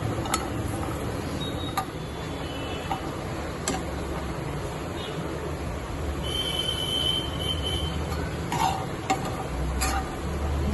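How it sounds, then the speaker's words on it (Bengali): Garlic cloves and green chillies are stirred in a dry pan with no oil, producing a soft, continuous scraping rattle punctuated by occasional sharp taps of the spatula. "দেখো আমি কটা রসুন আর কাঁচা লঙ্কা শুকনো প্যানটার মধ্যে নিয়েছি, কোনো তেল ঠেল দিইনি। একটু নেড়ে নেব"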